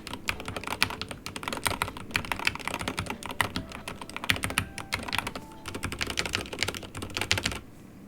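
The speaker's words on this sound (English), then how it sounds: "this keyboard, as I said, has really low actuation time, and it is very smooth. Here's a little sound test for you guys." Fast, continuous clacking of a Ducky One 2 Mini mechanical keyboard, close and steady, with dense rapid keystrokes throughout and no voices.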